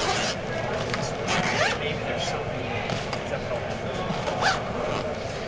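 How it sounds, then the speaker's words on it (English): A zipper on a Victorinox Seefeld convertible bag is drawn steadily around the bag, a continuous close rasp with brief pitch shifts as the slider runs, over faint background noise. "So this just zips all the way around."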